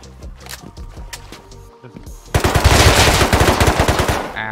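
Gunfire and explosives in the survival video game Rust: scattered shots and clatter at first, then a loud burst of rapid automatic fire that keeps hammering without a break to the end.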